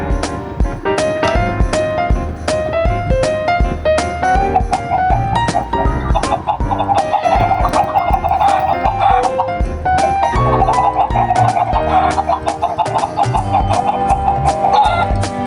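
Minecraft chickens cluck on a farm in the game, repeated short clucks over loud, constant background music.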